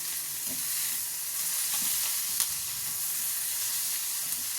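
Drained raw banana pieces are stirred in a pan, giving a steady, fairly quiet frying hiss with faint scraping strokes from the spatula.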